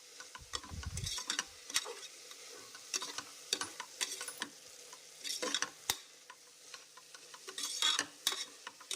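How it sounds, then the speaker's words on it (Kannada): Mutton keema biryani masala stirred in a frying pan: a steady run of scraping spoon strokes and clinks over a soft sizzle, close and alone with no voices. "ಈಗ ಎಲ್ಲ ಕಲಿಸ್ಕೊಳ್ಳೋಣ."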